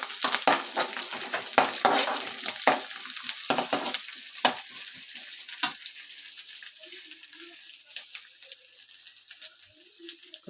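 Onions frying with coriander leaves in a pan, stirred with a spatula: steady hiss and sizzle under a series of sharp scraping strokes that thin out toward the end, fairly close.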